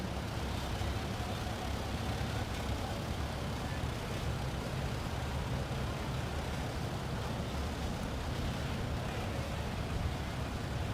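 A 1948 Farmall M tractor drives in a rural threshing bee parade in Mankato, Kansas, a continuous low engine rumble with steady broadband outdoor noise throughout, no clear rhythm or pauses.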